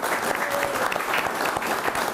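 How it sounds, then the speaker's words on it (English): A crowd gives sustained applause for a parade Grand Marshal, with steady, dense clapping that continues evenly throughout. "big round of applause for this man."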